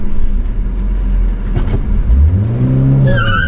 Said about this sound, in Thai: ล้อฟรีเลยนะครับ